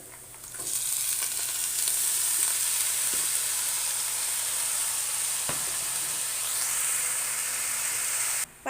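Shredded cabbage frying in a hot pan for a cabbage stir-fry, giving a steady, loud, broadband sizzle that holds for several seconds, with a few faint clicks of a utensil and no talking.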